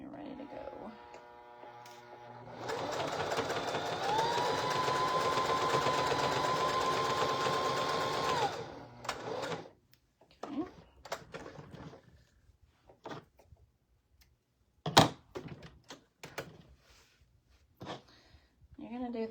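A sewing machine stitches a star appliqué onto a shirt in one steady whirring run of several seconds, followed by quieter clicks and handling noises, with someone talking at times.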